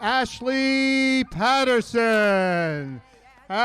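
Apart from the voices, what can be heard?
No everyday noise stands out behind the speech.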